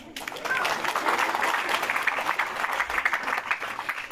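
Audience applause at a night gospel revival meeting in a village in Alor, East Nusa Tenggara, a steady burst of clapping from a crowd that carries on for several seconds.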